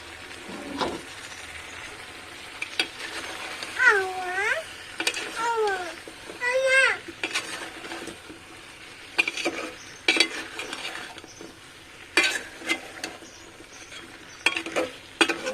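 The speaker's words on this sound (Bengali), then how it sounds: "5 মিনিট পর ঢাকনাটা তুলে একটু নেড়ে দিতে হবে।" Potatoes and carrots are stirred in a cooking pot for vegetable khichuri, a spoon scraping against metal over a soft sizzle in bursts, with a voice and other speech heard at times.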